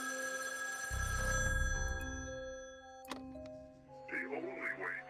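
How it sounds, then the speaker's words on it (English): In the video game Shivers Two, a telephone rings with bright, sustained electronic tones that shift and restart, followed by a burst of warbling ring tones, fairly loud and close. "Somebody's ringing the phone."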